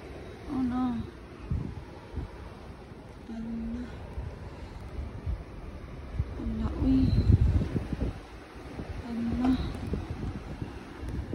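Blizzard wind gusts through a snowy Saskatoon street, roaring and buffeting the microphone in waves, while a voice speaks briefly over it.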